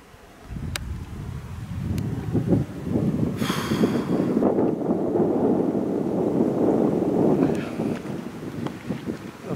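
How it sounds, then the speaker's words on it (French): Steady wind at the Neda waterfall in the Peloponnese, Greece, rushing and buffeting the microphone, a continuous low roar that rises and holds, with brief higher hissing bursts. "Il y a un peu de vent frais."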